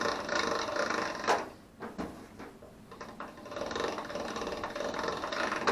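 Fresh pasta dough is cranked through a hand pasta machine on its thickest setting, a close, uneven ratcheting and clicking of gears with brief pauses.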